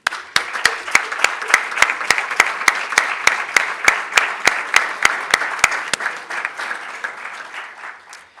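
A small audience at a magazine presentation breaks into applause, with sharp, evenly spaced claps standing out over a lighter patter of hands that thins out toward the end.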